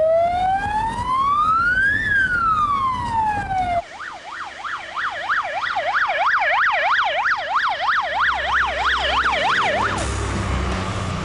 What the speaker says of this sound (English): Keith, why don't you put on the sirens and all the lights and everything and make it a real drama